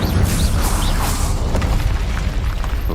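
Spell effects in Hogwarts Legacy including the Incendio fire spell, a steady loud roar of booming, crackling blasts that carries on without a break and no voices over it.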